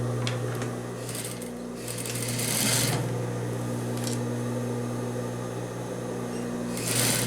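A sewing machine stitches interfaced yoke fabric for a pleated skirt, right sides together, its motor producing a steady close whirring drone with brief louder bursts near the start and end.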